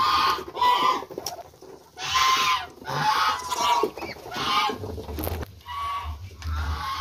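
Muscovy ducks in a free-range pen, a string of loud, close calls and chattering bursts with short gaps, overlapping animal noises and farmyard clatter in between.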